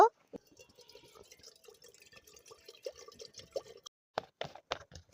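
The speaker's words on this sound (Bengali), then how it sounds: "এবার জল দিয়ে দেব" Water goes into a pot on a lit stove to make coconut bhapa pitha, heard as faint, scattered drips and splashes at close range, ending in a few louder splashing bursts.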